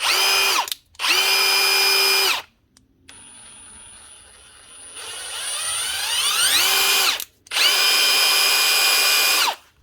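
A repaired Milwaukee cordless impact driver whirs loudly in steady bursts, three long runs separated by brief pauses, with a quieter rising spin-up and spin-down in the middle.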